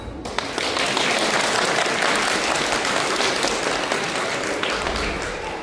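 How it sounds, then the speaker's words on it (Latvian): An audience at a school open day at Riga Secondary School No. 51 claps for a teacher, with dense, sustained applause filling the hall at a steady level throughout. "Jūsu aplausi!"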